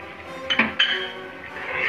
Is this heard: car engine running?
no